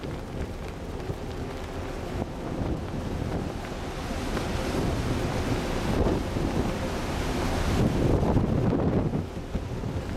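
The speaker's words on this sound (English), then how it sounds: "Very big waves. We have not seen such waves in Alaska." Very big waves of the rough Southern Ocean near Antarctica, a loud continuous roar of surf and crashing water mixed with heavy wind buffeting, swelling stronger toward the end.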